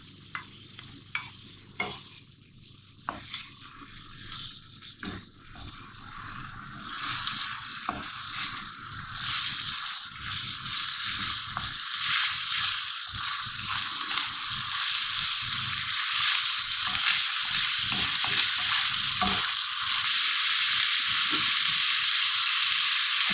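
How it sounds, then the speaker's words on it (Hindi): Minced keema sizzling and frying in a degchi with garlic ginger paste and green chillies, a steady loud hiss broken by scraping stirs, building denser after the first few seconds. "अब मैं इसमें लहसुन अदरक का पेस्ट डाल रही हूँ और ये हरी मिर्चें डाल के मैं इसको भूनूंगी"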